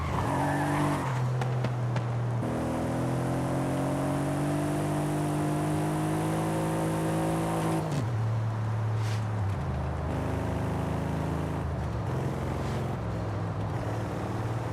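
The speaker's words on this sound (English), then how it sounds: "This car sounds like a freaking boss" Car engine in Forza Horizon 5, a loud continuous drone rising and dropping through long gear changes while tires squeal in drifts, with no talk over it.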